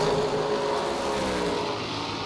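Drag racing cars at a St Patrick Classic event, among them an Oldsmobile: a loud, continuous engine roar with a steady, droning pitch, heard from a short distance without speech.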